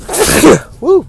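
A person sneezes loudly once, a burst of breathy noise followed by a short exclaimed voice, close and alone.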